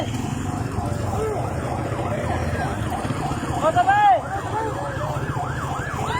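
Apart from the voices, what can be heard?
police car siren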